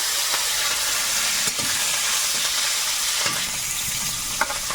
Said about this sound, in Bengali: কড়াইতে তেল দিয়েছি এবার একটু কালো জিরে দেবো আর কাঁচা লঙ্কা